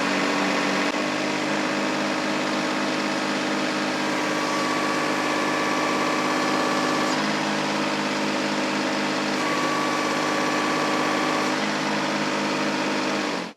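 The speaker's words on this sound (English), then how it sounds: "Let's rev it up to 2000 RPM." A Kubota tractor engine running steadily at around 2000 RPM, a constant droning hum with no clear rise or dip, heard alone for over ten seconds before cutting off abruptly.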